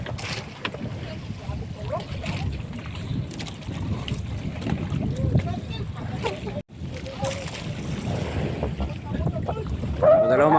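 Strong wind buffets the microphone while rough waves slosh and churn around a fishing boat at sea, a constant rough roar with a person talking over it.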